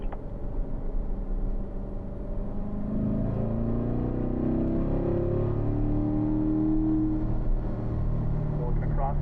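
A Corvette's engine drones and rises in pitch as it accelerates through corners on a race track, steady and fairly loud, with a driver talking over it.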